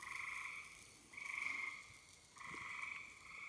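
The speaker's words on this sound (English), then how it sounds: "Hear them frogs?" Dense chorus of many frogs croaking outdoors, a steady pulsing trill that swells in three long bursts, faint and distant with no talking.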